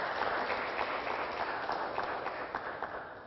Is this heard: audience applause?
yes